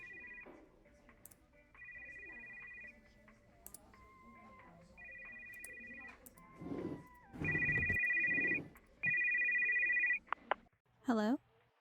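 A video game phone ringtone trills in repeated bursts, quiet at first and then growing louder and closer, with rustling and movement between the rings.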